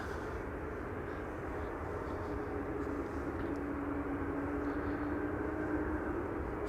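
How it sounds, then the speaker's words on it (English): A steady, moderately distant jet roar comes from an Embraer E2 taxiing to the runway threshold for takeoff at Amsterdam Schiphol, with a faint rising engine whine partway through and no talk. "E2 Embraer on their way to the threshold of 18 left"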